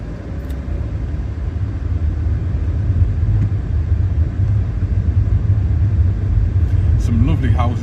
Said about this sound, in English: Oh, here's another car.